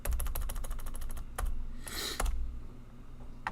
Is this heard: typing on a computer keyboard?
yes